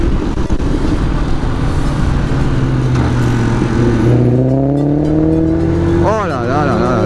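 A Maserati car drives past, its engine note rising and shifting in pitch against steady loud road and wind noise, with a person talking over it.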